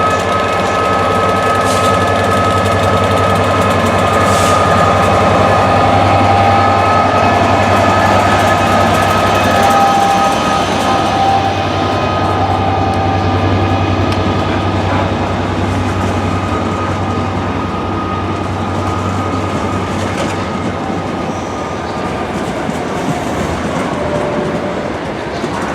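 A Class 67 diesel locomotive, number 6706, pulls away with a loud, sustained engine drone and rolling rail noise, heard close and steady with no talk.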